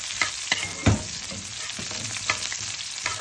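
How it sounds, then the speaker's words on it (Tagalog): Garlic and onion sauté in a pan, sizzling steadily throughout with repeated spoon scrapes and clinks, one louder knock near the start, all close and with no voices. "gisa muna natin yung bawang"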